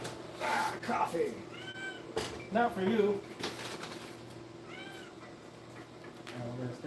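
Pet cats meowing in a home, several drawn-out meows spread through the clip, with a person talking nearby between and over them.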